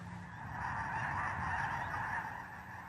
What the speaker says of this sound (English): in the next instant the skies become alive with thousands of birds